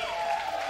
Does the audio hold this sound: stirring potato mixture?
no